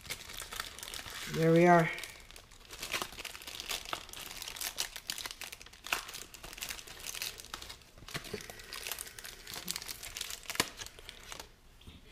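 A razor slices open plastic packaging holding replacement servo arms for an RC car, giving close crinkles and short scratchy tearing sounds, with a brief tonal squeak early on and someone speaking briefly.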